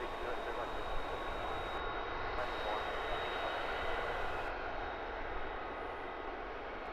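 An airliner arriving at Luton Airport gives a faint, steady broadband engine rush in the distance, holding evenly across the stretch, with a thin high whine faintly present.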